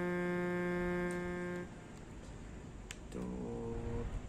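A truck horn in Euro Truck Simulator 2 blares twice over the engine hum, first a long steady multi-tone blast, then after a short gap a second, quieter honk.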